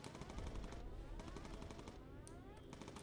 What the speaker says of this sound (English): You can hear the gunner shooting.